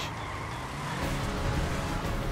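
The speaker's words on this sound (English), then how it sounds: "About to do a nice handbrake turn onto the bridge." A car in the video game GTA V does a handbrake turn onto a bridge, its engine droning steadily and rising slightly in loudness over a short span, with no talk.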